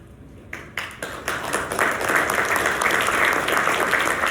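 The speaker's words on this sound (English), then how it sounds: "big round of applause for Molly and Elizabeth" Conference audience applauding at the end of a cybersecurity breach-response session, starting with a few scattered claps and swelling into steady, dense clapping that fills the room.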